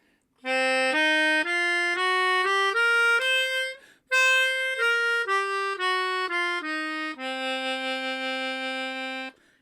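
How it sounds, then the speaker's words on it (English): A clean, sustained melodic tone plays a blues scale one note at a time, climbing then descending, pausing briefly midway, and ending on a long held note. "we use a special scale called the blues scale. Let's see what that sounds like."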